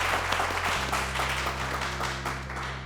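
Audience applause greets the company founder and CEO of an insurance firm at an event, a steady wash of clapping held over a low sustained musical hum for about three seconds.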